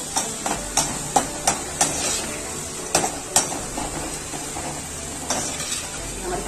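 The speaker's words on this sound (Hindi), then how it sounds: "अब हम इसमें कॉर्नफ्लेक्स फ्राई कर लेते हैं।" Cornflakes sizzle in hot oil while being fried for chivda namkeen, a steady soft hiss broken by repeated light clinks of a metal spoon or ladle stirring against the pan, with no talking.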